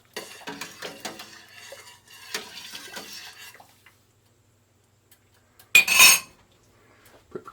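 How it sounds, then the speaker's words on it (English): A spoon stirring a ginger wine juice mixture in a pot, with scraping and clinking against the metal for about three seconds, then quiet and one loud clatter near the end. "I just want to get it in there and give it a good stir."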